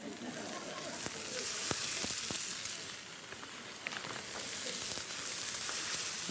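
Hot oil sizzling and crackling as wet ingredients go into the pan for a Cuban dish, a steady spattering hiss with sharp pops throughout.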